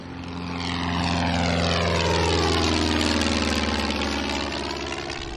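A small propeller airplane flies past overhead, its engine drone swelling and then fading, with the pitch sliding steadily downward as it passes alone with no voices.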